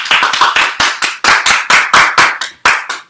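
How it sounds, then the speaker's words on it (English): Applause from a small audience at a junior cybersecurity basics badge workshop: about a dozen distinct, close, loud claps in an uneven rhythm over three seconds, with no talking. "Round of applause, everybody."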